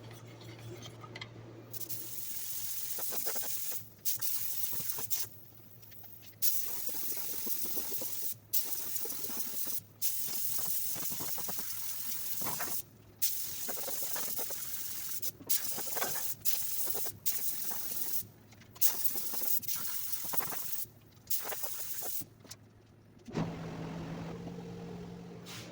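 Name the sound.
spraying epoxy sealer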